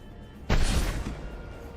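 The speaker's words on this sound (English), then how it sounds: "Firing a high impact shot." A single loud gunshot from a high-impact weapon in Mass Effect 2 cracks sharply over a quiet backdrop, then fades in a rumbling decay.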